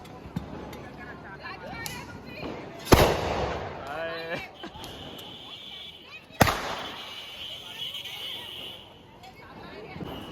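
Diwali firecrackers burst outdoors with two sharp, loud bangs a few seconds apart, each followed by crackling. People talk throughout.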